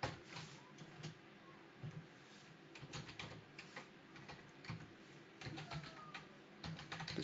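Quiet, rapid clicking of a computer keyboard as code is typed into a JavaScript editor: uneven bursts of close, light keystrokes with short pauses between them.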